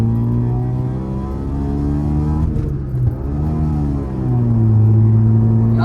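A modified Maruti Suzuki Swift at full throttle with the AC off: a loud, close engine drone climbs and dips as it revs, with brief crackling pops from the exhaust in the middle.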